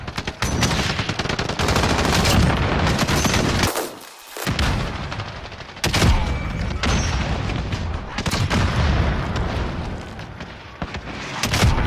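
Gunfire from a Call of Duty Warzone match, dense shots and booming blasts ringing out continuously, briefly dropping away before resuming loud and close.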